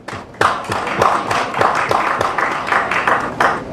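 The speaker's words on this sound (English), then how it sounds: "A round of applause for Uganda for that." An audience applauds Uganda at an agriculture and environmental certification talk, a steady round of hand clapping that runs throughout with sharp individual claps standing out.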